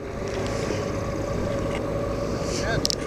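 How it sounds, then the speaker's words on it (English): A motorboat engine idles through thick goo on the water, a steady close low drone with wind noise over it and a voice briefly heard. "We're going to idle through the goo."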